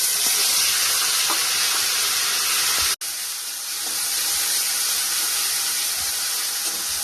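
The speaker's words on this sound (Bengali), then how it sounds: "তেল গরম হয়ে গেছে, কালো জিরে দিয়ে দেবো বন্ধুরা। কপি পাতা বাটাটা এবার দিয়ে দেবো।" Cabbage leaf paste and nigella seeds fry in hot oil, giving a loud, steady hiss and crackle that drops out for a split second and then comes back just as strong, with no voices.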